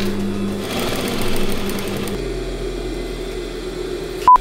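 Sewing machine running steadily while stitching an invisible zipper seam at a half-inch allowance, a continuous close mechanical whir whose pitch shifts partway through, then a brief sharp tone at the end.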